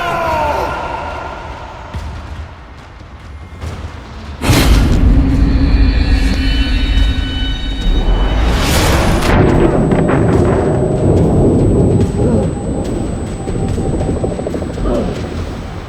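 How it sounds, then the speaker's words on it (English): A helicopter is caught in an explosion in the video game Metal Gear Solid V: a loud boom erupts midway, followed by a second blast and sustained roaring rumble and debris, with faint tones and talk at the start. "the helicopter carrying him, Miller, Chico, Paz, and the medic is caught in an explosion under suspicious circumstances"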